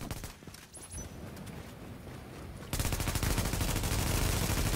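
Rapid automatic gunfire in a fantasy multiplayer video game, aimed at a turret: a dense, continuous volley of shots that grows louder and harsher halfway through and runs without a break to the end.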